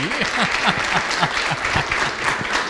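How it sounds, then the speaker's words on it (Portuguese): Strong applause from a seated audience, a steady wash of many clapping hands, with a voice speaking over the top. "pode aplaudir"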